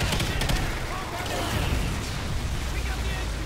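Game gunfire in the shooter Extinction, a dense rapid run of shots and booming impacts that fills the whole moment at steady loudness, with no pause between bursts.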